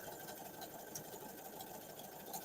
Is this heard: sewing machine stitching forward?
yes